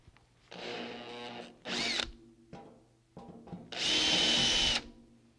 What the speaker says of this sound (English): I've changed bits so I can enlarge the holes where I will attach the dust port to the cabinet